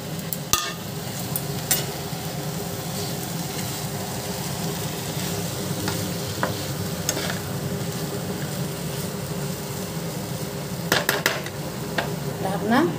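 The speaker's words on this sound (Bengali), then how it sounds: "এরপর সব সবজিগুলোর সঙ্গে আমি এই চিকেনটা দিয়ে একটু ঢাকা দিয়ে মজতে দেবো।" Chicken cooking with mixed vegetables, turmeric and dried chilli powder in a pan, giving a steady low sizzle with occasional utensil scrapes and clinks against the pan.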